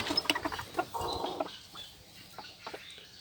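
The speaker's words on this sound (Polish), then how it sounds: "Tutaj też siedzi kwoczka, a tutaj jest kogucik." Hens and a rooster in a coop, some of them brooding hens sitting on eggs, give soft clucks and murmurs at a moderate distance, with a brief denser burst of activity near the start.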